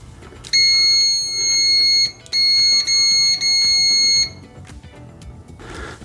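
Continuity beeper of a WinAPEX 189C budget multimeter sounding a loud, piercing steady tone in three close bursts separated by short breaks, then stopping, with faint room noise around it and no speech.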